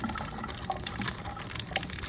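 Tap water runs steadily from a faucet while a denture is rinsed in a sink, a continuous close splashing gush with no voices.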